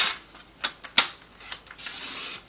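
A paper trimmer blade slides lengthwise through cardstock for a slimline mosaic card, giving a few short scraping swishes and clicks up close, with a longer hissing cut at the end and no talking.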